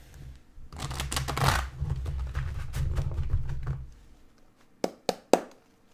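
Tarot cards are shuffled close up in a soft riffling flurry lasting a few seconds, followed by three sharp taps as the deck settles.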